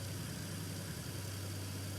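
Boat engines in the video game Stormworks run with a steady, loud, droning hum and a low rumble, an unbroken mechanical tone sustained throughout without talk.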